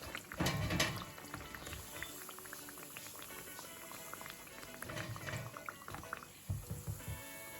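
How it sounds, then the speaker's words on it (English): Jamaican-style falafels frying in hot oil give a steady, dense crackling sizzle throughout, close and even, with a few louder bubbling bursts. "So these will take roughly 3 minutes thereabouts to fry."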